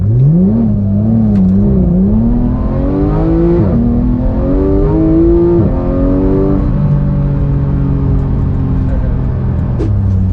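A Porsche 911 GT3 with a PDK gearbox pulls away from pole position on a track, its engine note rising through several gear changes, loud and close throughout.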